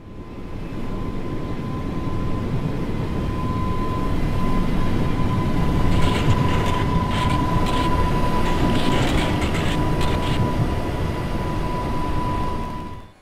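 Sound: Class 484 train running in video game Train Sim World 4

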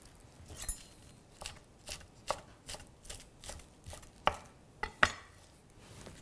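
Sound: shredding baby spinach for salad

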